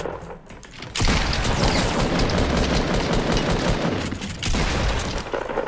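Rapid sniper and gun fire in a Fortnite match, a dense, loud burst of shots and booms starting about a second in and continuing almost without a break to the end.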